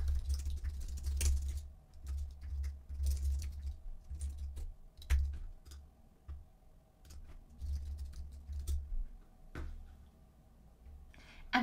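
Computer keyboard typing as a form is filled in: steady, quiet, close key clatter in uneven bursts over a low background hum, with no talking.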